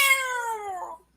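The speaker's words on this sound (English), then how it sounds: "A cat. Just a crummy cat." A single drawn-out cat meow, close and clear, sliding gently downward in pitch for about a second before cutting off into silence.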